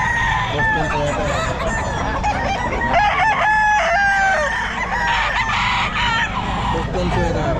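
Boston Sweater gamefowl roosters crow repeatedly, loud and near, over a dense background of clucking birds, with people talking nearby.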